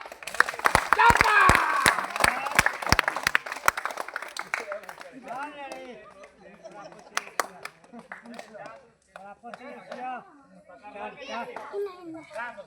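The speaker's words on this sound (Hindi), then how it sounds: "जोर से ताली बजाओ" Crowd of villagers at a roadside snake show clapping in a loud burst of sharp claps that thins out after a few seconds, followed by children's chatter and talk.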